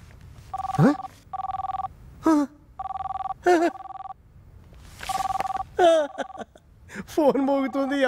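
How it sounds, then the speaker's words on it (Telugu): A house telephone rings in repeated double bursts, loud and close, with gasps and short vocal sounds between the rings and brief speech near the end. "ఫోన్ మోగుతుంది ఎవరు లిఫ్ట్ చేయడం లేదు"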